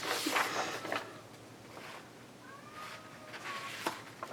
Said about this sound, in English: my cat is talking to my son. She screeches at him every morning.